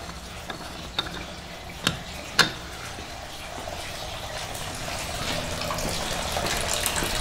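Fluid streams from a BMW 335i N54/N55 engine's opened drain into a pan, a steady wash building gradually louder, preceded by a few sharp clicks and taps of metal.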